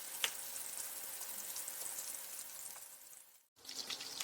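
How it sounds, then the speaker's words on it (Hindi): Cauliflower florets fry in oil over a medium flame for gobhi matar, a steady close crackling sizzle that briefly drops out, then resumes. "इसे दोनों साइड से मीडियम फ्लेम पर थोड़ा सा कलर आने तक हम फ्राई करते रहेंगे"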